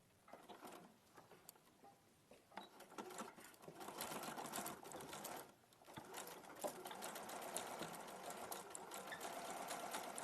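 Sewing machine stitching across gathers on fabric: a continuous rapid mechanical patter that starts and stops briefly, then runs steadily at close range, with faint talk in the background.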